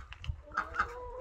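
Farmyard chickens cluck in a few short calls close by during a winter day in a village garden, with no talk over them.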